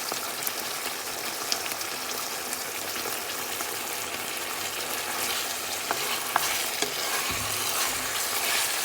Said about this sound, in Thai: เจ๊ก็จะเอาหมูลงไปผัด ให้พอสุกก่อนนะคะ